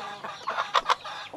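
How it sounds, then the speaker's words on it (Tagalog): Soft clucking from small chickens, a few short bursts close by, two sharper calls near the end over quiet background. "meron din ako maliliit dito na manok"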